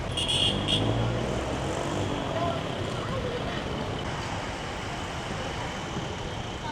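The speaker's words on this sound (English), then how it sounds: "So a lot of traffic over here." Traffic rumbles through a humid street in Manila, a continuous broadband roar of engines and road noise at moderate level, with a brief brighter sound near the start.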